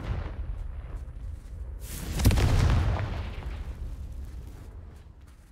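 Confringo spell blast in Hogwarts Legacy, a single deep booming explosion that rises sharply after a quiet lead-in and rolls away over a few seconds.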